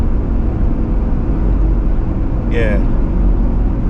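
An ambulance being delivered to Ukraine rolls steadily down the road, its low, even road and engine rumble filling the cabin from start to finish while a voice speaks briefly over it.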